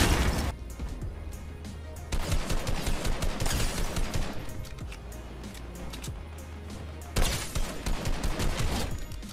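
Rapid-fire SMG in a video game, long continuous bursts of quick gunshots that break off briefly and then resume, loud and dense throughout with no speech.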